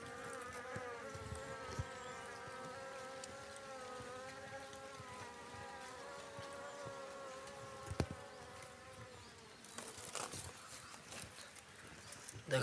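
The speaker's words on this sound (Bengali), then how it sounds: "এই যে কত পোকা, এই যে পোকা" Bees drone steadily in a felled tree holding a honey nest, a close, continuous buzz with quiet handling noises and a few sharper knocks toward the end.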